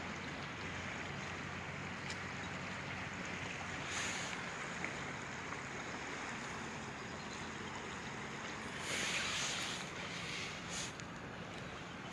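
Clear stream water flows steadily over rocks in a natural setting, a soft continuous rushing wash with faint brief splashes, no talking.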